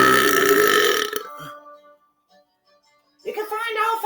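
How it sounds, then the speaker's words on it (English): A long, loud belch from a man playing Zelda: Majora's Mask, rumbling for about a second before trailing off into near silence, then a voice starts speaking. "Burp break."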